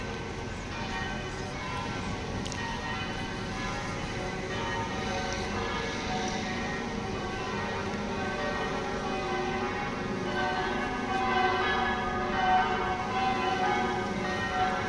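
Midday church bells ring out from St. James Church in Medjugorje, a steady, sustained peal of layered tolling that carries evenly through the whole stretch with faint street ambience beneath.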